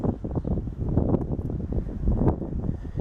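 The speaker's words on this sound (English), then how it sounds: "now I can feel the wind a little bit as I've walked over this way a little bit" Wind at Whitefish Point, Michigan, buffeting the microphone outdoors as a steady low rumble that swells and dips, with no speech.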